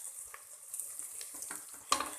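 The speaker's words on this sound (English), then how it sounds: "You need to fry it well." Ingredients sizzle and fry in a pot for Hyderabadi mutton biryani, with a soft, steady crackle broken by a few stirring scrapes and one sharper clink near the end. No one speaks.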